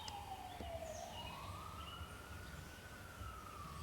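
A distant siren wails, its pitch slowly falling then rising again over a low background rumble; faint and far away.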